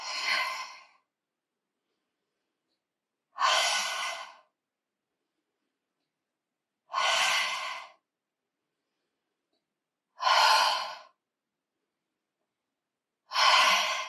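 A person doing a neck exercise with a resistance band breathes deeply, five slow, even breaths spaced a few seconds apart with full silence between them, close and clear.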